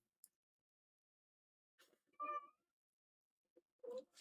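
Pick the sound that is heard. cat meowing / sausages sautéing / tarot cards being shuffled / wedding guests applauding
cat meowing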